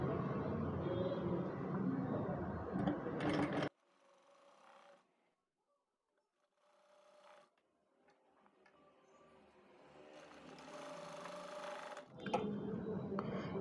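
A sewing machine stitches a frock seam in several runs, its needle ticking in bursts of steady whirring, with quiet pauses between runs.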